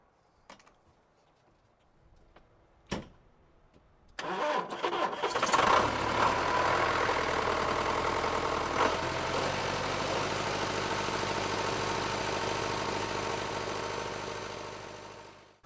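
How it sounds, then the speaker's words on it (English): A tractor engine cranks with a few sharp clicks and strains, catches about four seconds in, then settles into a steady, loud idle that runs to the end. "I thought I should go try and start my tractor"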